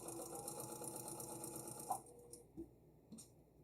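A sewing machine chain piecing nine-patch quilt patches, a rapid close mechanical whir that runs for about two seconds, then stops, followed by a few faint clicks and brief stitches.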